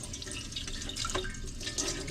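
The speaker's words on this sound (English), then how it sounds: "we're just letting the water run through" Tap water runs steadily into a sink to rinse the parts of a Kuvings Master Chef CS700 slow cold press juicer, a continuous close splashing wash with no talking.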